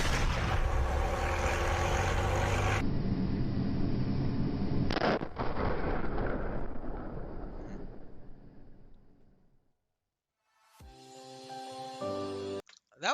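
Gunfire and explosions from military footage of tank combat, a dense, loud roar of blasts and rumble that shifts abruptly, fades away into near silence, then returns in sharp bursts at the end.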